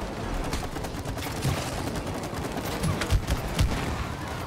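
Gunfire in the video game It Takes Two: a busy, continuous crackle of rapid shots with a few heavier thumps near the end, moderately loud and without a break.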